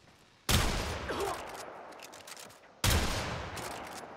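Two sharp bursts of gunfire from a weapon in the Warframe video game, each a loud crack with a decaying tail, roughly two seconds apart.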